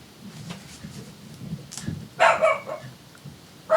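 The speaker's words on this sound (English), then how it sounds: "My dog is barking at the neighbor's dog" A pet dog barks at the neighbour's dog in a few sharp bursts, a quick double bark followed by another after a pause, over a low, murmuring background.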